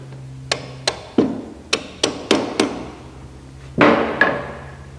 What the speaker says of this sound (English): Tap that up into place.